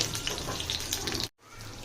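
Egg frying in a pan in a home kitchen, a steady close hiss and sizzle with crackling spatter that cuts out briefly near the end, then resumes more quietly.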